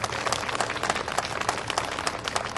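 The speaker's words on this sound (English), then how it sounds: "I want to give a big round of applause to those guys for their efforts." An outdoor crowd claps steadily at a road expansion grand opening, a dense, moderately soft patter of many hands with no voices over it.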